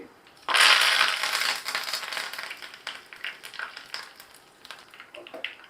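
Mustard seeds spluttering in hot coconut oil for a banana flower kola mor kulambu tempering, a burst of dense crackling pops that thins into scattered sizzling snaps, close up.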